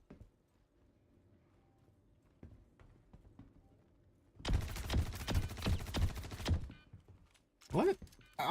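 Rapid pistol gunfire in Star Citizen Arena Commander, two loud bursts of quick shots with a short pause between them over a quiet background.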